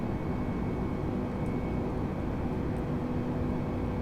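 A steady, dense Airbus airliner engine roar in Flight Simulator 2020, struggling to climb while running low on fuel, holds a constant level throughout with no voices.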